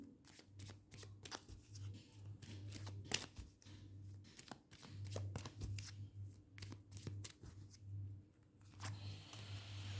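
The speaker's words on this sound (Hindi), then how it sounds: "इसमें से एक कार्ड निकाल देती हूँ" Tarot cards shuffled and drawn from a deck, giving a close run of quick papery flicks and riffles across the whole stretch, with a steady low hum underneath.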